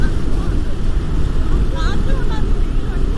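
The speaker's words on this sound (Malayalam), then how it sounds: "ആ കാറ്റുണ്ടല്ലേ നല്ലോണം." Wind rushes past an Apache RR 310 motorcycle on a road trip, a loud, steady roar with gusty surges, and voices talking faintly within it.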